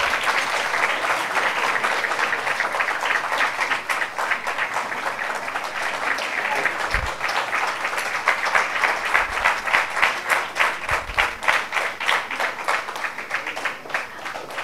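Audience at a university sports prize ceremony applauding throwball winners, sustained crowd clapping that settles into a strong rhythmic unison beat toward the end, loud and continuous without talk.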